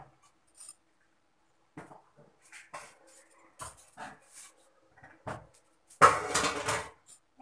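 Cups and dishes set down in a kitchen sink, a scattered series of light clinks and knocks, then a louder clatter of crockery and water near the end, close and with no speech.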